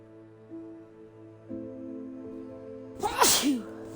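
A single sharp human sneeze bursts out near the end, loud and close, following a low steady hum with faint tonal background sounds.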